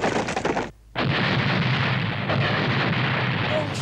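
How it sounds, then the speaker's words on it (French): A cannon in an animated Zorro adventure fires in heavy, rumbling booms, loud and close, with a brief gap of near silence before another sustained roaring blast. "Ce canon est prodigieux"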